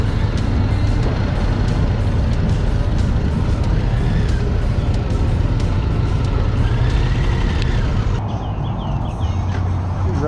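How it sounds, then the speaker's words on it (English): A 2025 Harley-Davidson CVO Road Glide motorcycle on the move, giving a steady loud engine and wind roar that fills the whole stretch, with no breaks. "Riding this beautiful CVO Road Glide this time because I wanted some comfort."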